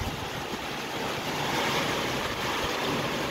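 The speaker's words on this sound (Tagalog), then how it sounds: "Kasi malakas ang hangin mong dala." Strong wind from Typhoon Paolo sweeps over rice fields in Luna, La Union, a loud continuous roar and rush buffeting the microphone without a break.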